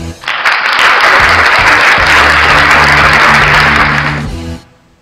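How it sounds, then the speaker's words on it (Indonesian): Studio audience applause welcoming a guest onto the Indonesian talk show HappyTalk: dense, steady clapping that swells quickly, holds loud for about four seconds, then fades out. "Kita beri tepuk tangan sekali."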